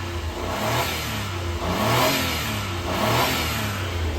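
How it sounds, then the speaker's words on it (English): Engine of a Honda Acty kei truck being revved a couple of times, with broad rising and falling surges over a steady running note, close and fairly loud with no talking. "Give it a couple revs."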